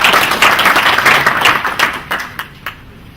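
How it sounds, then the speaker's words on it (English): An audience at a county sanitation strategy launch claps loudly and close, many hands at first, then thinning to a few scattered claps before stopping. "Let's applaud them and appreciate them."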